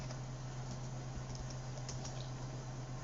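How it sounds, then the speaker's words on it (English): Keys are tapped on a computer keyboard and enter is pressed during a Linux install, a few soft scattered clicks over a steady electrical hum. "I just hit enter on my keyboard."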